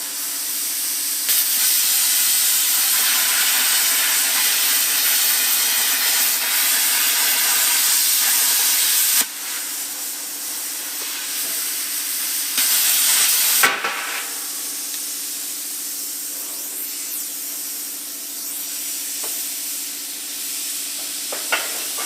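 An ARCCAPTAIN CUT 55 plasma cutter cuts metal with a loud, continuous rushing hiss that cuts out sharply and starts again, then settles into a slightly quieter steady hiss.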